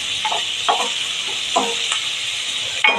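Chopped onion sautés with turmeric in a pan for a jowar ukadpendi breakfast, a continuous bright sizzle broken by a few soft stirring scrapes, close and alone.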